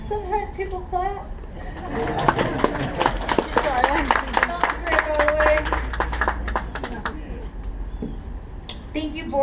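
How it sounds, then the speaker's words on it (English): An audience at an alligator show claps in a brief burst of scattered applause, mixed with crowd voices and children's chatter outdoors. "Sometimes people clap."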